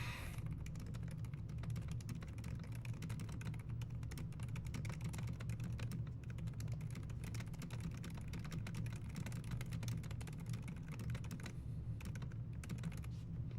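Rapid, continuous typing on a computer keyboard during a speed typing test, dense clicking keystrokes running steadily throughout over a low background hum, with no talking.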